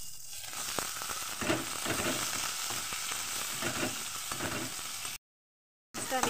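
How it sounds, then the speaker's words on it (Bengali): Chopped onions frying in oil with garlic paste and cumin for Bengali aloo dum, a steady, close sizzle with faint crackles, followed by a brief dropout of silence. "এবার দিয়ে দিলাম আমি পেঁয়াজ কুচিয়ে রাখা।"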